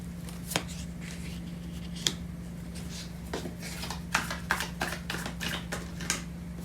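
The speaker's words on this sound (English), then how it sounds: "So I'm going to clarify these cards." Tarot cards are shuffled in quick bursts of riffling flicks and slaps over a low steady hum, growing busier toward the end, with no talk.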